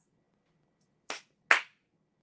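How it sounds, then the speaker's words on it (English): Two sharp hand claps about half a second apart, close and crisp, the second louder, in an otherwise quiet room with no talking. "And I had to do all the hand claps."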